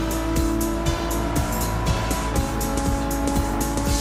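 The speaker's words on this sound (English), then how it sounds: "Listen to that engine." Loud, steady engine drone with harmonic whine and repeated rising pulses like gear changes or revving, close and continuous, no voices.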